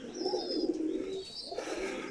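Domestic pigeons coo softly and close by, two low, drawn-out calls in quick succession.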